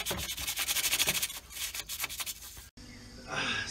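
Rhythmic scrubbing strokes against the back wall of a boat bilge during cleaning, a quick run of rough rubbing pulses, a brief pause, then another burst of scraping.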